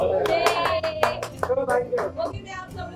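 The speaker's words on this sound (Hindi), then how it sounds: "जोरदार तालियां।" An audience on the red carpet at the Dadasaheb Indian Television Awards breaks into loud applause, a burst of crisp, dense hand claps up close, with voices and chatter mixed in.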